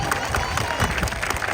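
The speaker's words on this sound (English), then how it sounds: "Can we give Anya, Gina and Lolita a big round of applause?" An audience at the Blackpool Zoo sea lion show claps together, a loud, dense, even patter of many hands that fills the whole short moment.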